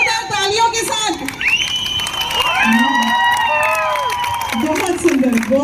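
A large outdoor crowd cheers, whistles and claps loudly for BSF motorcycle stunt riders performing daredevil acts at a 75th-anniversary celebration, with shouts and rising whistles over a constant roar and voices talking underneath.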